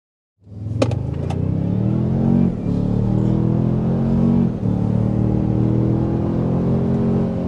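A 2024 Toyota Sequoia hybrid starts up and accelerates hard, its engine rumbling loudly and rising in pitch through several gear changes, with brief dips where it shifts and then climbs again.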